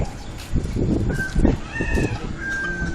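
Chickens make thin, high calls over a busy, noisy background, with a few short cries scattered through the clip.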